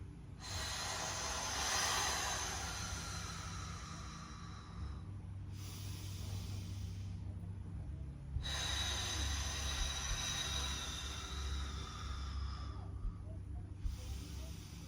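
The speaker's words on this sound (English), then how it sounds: "breathe in all the way, that 360 breath" A slow, deep full-torso breath during a core workout, two long drawn-out inhale and exhale cycles each lasting several seconds, close and steady over a constant low background hum, with no talking.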